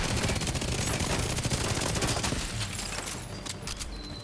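Rapid sustained automatic gunfire pours onto a turret in a Call of Duty DMZ-style shooter, a dense loud fusillade of overlapping shots that thins slightly toward the end.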